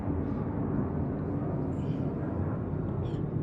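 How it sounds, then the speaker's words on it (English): A jet aircraft passes overhead, heard as a faint, steady low rumble that hangs evenly in the background without rising or falling sharply. "that sounds like a jet going over"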